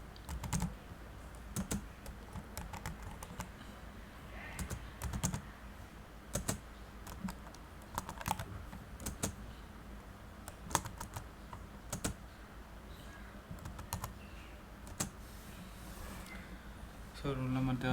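Roll numbers are typed into an Excel spreadsheet on a computer keyboard, giving irregular bursts of sharp close key clicks with pauses between, over a quiet room hum.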